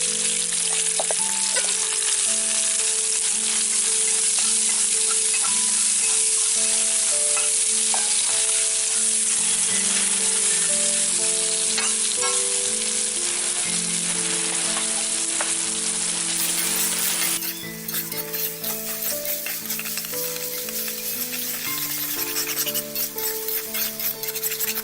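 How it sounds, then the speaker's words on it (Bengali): Marinated river snails (googli) fry in hot oil for a village-style dish, with loud, continuous sizzling and crackling throughout and occasional stirring clinks, no voices. "এবার আমি গুগলিটা ভেজে নেব।"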